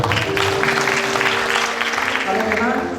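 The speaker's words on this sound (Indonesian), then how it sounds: "Tepuk tangan buat" Clapping rolls steadily through a congregation at an evening church service, a moderate wash of applause with a voice speaking faintly underneath.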